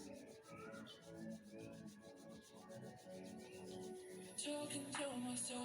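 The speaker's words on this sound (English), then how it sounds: "rub your palms such that they generate heat" Palms rub together to build heat, a soft, steady brushing friction heard up close and faint over several seconds with no speech.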